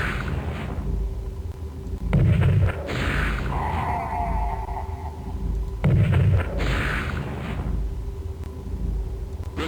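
Tank gunfire in the PC strategy game Spellcross: two heavy booming shots a few seconds apart, each with a deep thud and rumble, over a constant loud droning background of game ambience.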